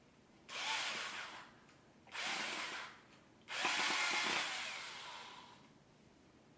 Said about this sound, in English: I'm gonna go ahead and drill a hole into the dowel first,